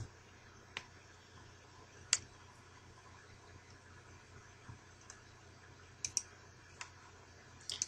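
Faint, sparse mouse clicks sound at uneven intervals while working in Microsoft Word 2007, with a soft double click near the end over a quiet hiss.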